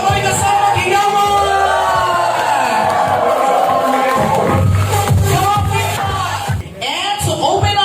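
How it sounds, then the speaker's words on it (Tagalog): A crowd at a vloggers appreciation event cheers and yells loudly, whoops and shouts layered with some clapping, while voices call out over the noise. "sabay-sabay nga po pumalakpak kami kasama higawan"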